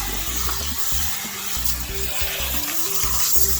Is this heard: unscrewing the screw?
no